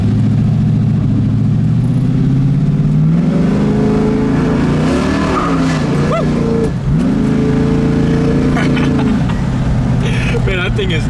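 A 1971 Camaro Z28 engine revs hard on the road, rising and falling in pitch through gear changes, loud and close from inside the car, with voices talking over it.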